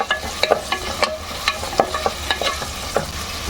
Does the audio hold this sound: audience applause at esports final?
no